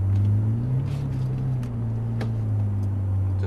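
A Lamborghini Murciélago rolling slowly out of a garage at Exotics Racing Las Vegas, its engine holding a deep steady low rumble at idle, loud and close, with a slight rise in pitch partway through.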